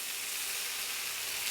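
Paneer tikka fries in a pan on a low flame, giving an even, continuous close sizzle with a bright hissing edge and no pauses.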